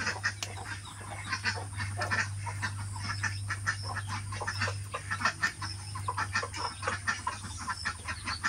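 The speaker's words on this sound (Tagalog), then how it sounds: "Mga gutom na ang aming itik. Hindi nakakalabas." Hungry ducks confined in a pen in a rural Philippine province give repeated honking, clucking calls at a moderate distance, with a steady low hum running underneath.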